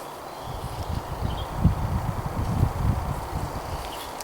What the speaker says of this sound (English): It's a little windy out here, it's blowing my cordage around.